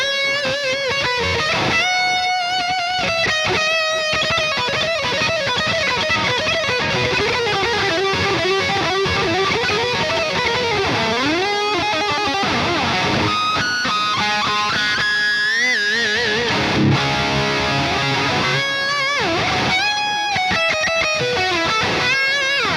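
Electric guitar lead played through a Marshall amp plugin with effects switched on, a sustained, distorted run of bent and held notes with fast phrases, loud and continuous throughout with no talking.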